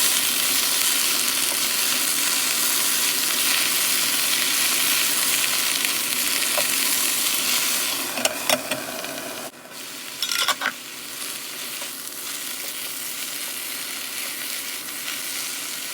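Spinach cooks in a pan with a steady loud sizzle, then several scrapes and clinks of stirring partway through before the hiss settles again, Japanese-style sautéed spinach with sweet corn.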